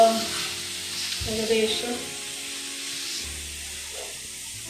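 Tomatoes sautéing in a pan for a homestyle pasta, a steady soft sizzle close by, fairly quiet, with a brief word of speech over it.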